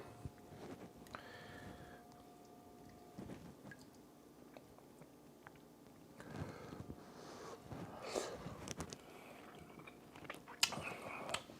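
Someone tastes and chews Southern style collard greens, with soft, close-up chewing and biting noises in quiet bursts. A faint tone sits under the chewing, and no one speaks.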